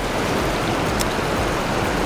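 Water rushes over a spillway in a steady, loud, broadband roar that stays close and unbroken throughout.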